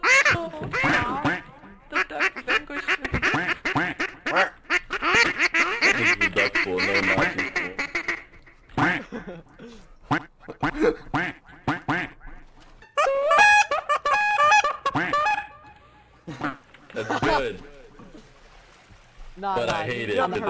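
Cartoonish duck quacks in the Garry's Mod game, repeated in bursts and mixed with excited shouting voices and game noise throughout.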